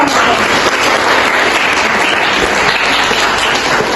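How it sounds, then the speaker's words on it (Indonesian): An audience claps at a teaching session in an Indonesian health polytechnic classroom, producing a loud, continuous burst of applause that fills the whole few seconds with no voices over it. "Oke, kasih tepuk dong."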